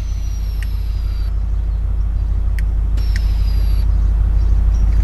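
An air compressor for a Nissan Y62 Patrol's airbag suspension hums and rumbles steadily at close range, a constant droning motor sound with a faint high whine at times.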